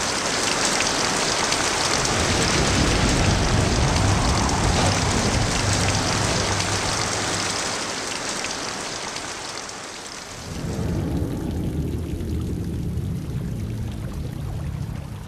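Heavy rain driven by wind, a loud, dense, continuous roar of downpour across the whole stretch, easing briefly near the end before the steady rush returns.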